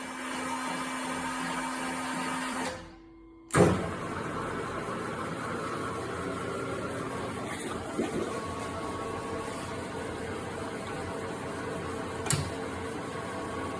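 A Leblonde Makino lathe runs with a steady mechanical hum and whir, briefly cutting out then restarting with a clunk, followed by a continuous motor drone with occasional clicks and knocks from the machinery.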